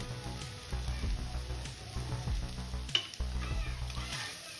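Masala stuffing for stuffed idli being stirred in a pan, a steady close scraping with soft sizzling and repeated spoon strokes, continuing without a break for a few seconds.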